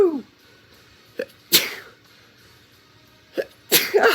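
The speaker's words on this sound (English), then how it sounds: "I have to sneeze." A man gives three sharp sneezes in quick succession, close and loud, with a short breath intake before the first and brief gaps between the others.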